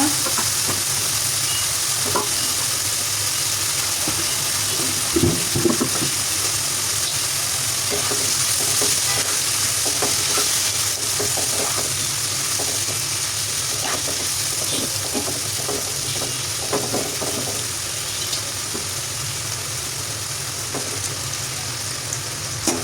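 Ash gourd stirred into fried spice paste whose oil has separated, for a puti fish dish: a loud, steady sizzle with repeated scraping and turning strokes of a spoon in the pan, lasting throughout with no voices.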